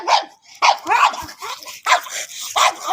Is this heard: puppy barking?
yes